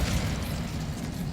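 Incendio fire spell in Hogwarts Legacy, a dense roaring whoosh of flame held steady and loud from start to finish with no pause.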